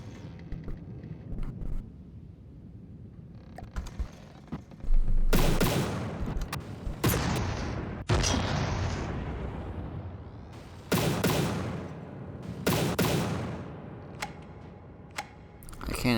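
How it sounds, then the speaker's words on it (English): Heavy cannon blasts from a video game ring out in several loud, sharp bursts with crackling tails, spaced irregularly over a low rumbling background. "cannon produces a lot of kick."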